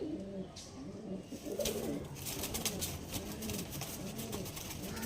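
Pigeons coo repeatedly in a close, steady series of rolling calls, with a faint hiss of room noise behind them.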